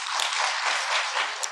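A church congregation breaks into sustained applause to welcome a pastor to the pulpit at a Korean teachers' dedication service, a dense, steady wash of many hands clapping close and loud throughout, with no voices over it.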